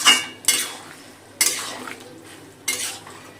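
Bottle gourd being sautéed in a pan with chili, cumin and coriander powder: four sharp scraping strokes of a metal spatula against the pan, each trailing off into a faint sizzle, close and loud, no speech.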